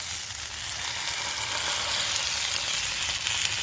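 Steak sizzles on a campfire at a wild forest camp in Scotland, a steady, loud frying hiss filling the air with no talking.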